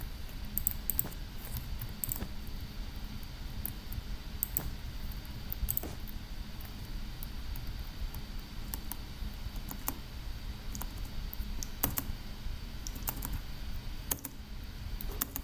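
Someone types fast on a computer keyboard, a dense run of close, crisp key clicks with scattered sharper strikes that keeps going steadily throughout.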